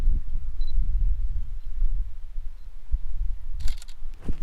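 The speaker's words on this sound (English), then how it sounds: "You'll hear the beep beep and then the shutter." Outdoors in the Colorado Rocky Mountains, a time-lapse camera rig gives a faint short beep early on and later a sharp shutter click, over low rumbling wind noise.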